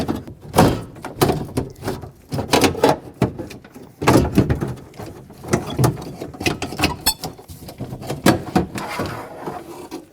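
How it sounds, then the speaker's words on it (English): A rear window regulator assembly with motor is slid out through the door opening of a 2009-2014 Ford F-150. Repeated close metallic clunks, scrapes and rattles sound in uneven bursts, with no talking. "Now with both sides removed, let's slide them out through this opening."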